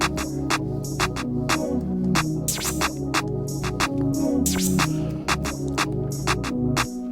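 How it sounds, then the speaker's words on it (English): A clap snare, a clap and a snare layered into one hit, plays a pattern in a jerk hoodtrap beat, sharp repeated strikes over a thick, continuous bass and synth backing. "Now we have this clap snare, which is basically literally a clap and a snare put together in one sound."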